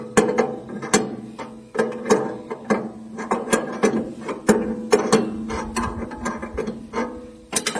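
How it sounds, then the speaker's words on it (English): Close, rapid ratchet clicks come in uneven bursts as a blade adjustment on a GT34 Deluxe portable sawmill is turned, with metallic mechanical rattling throughout. "We're turning that adjustment clockwise to move the blade back."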